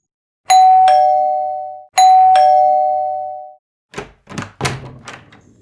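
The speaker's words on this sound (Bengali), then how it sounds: "calling bell টিপতেই" A doorbell rings twice, each a bright two-tone chime that rings out and decays, followed by a few dull knocks and thumps at a door.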